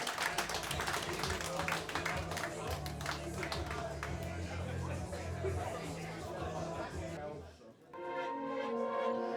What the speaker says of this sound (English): Big round of applause for all the acts you've seen.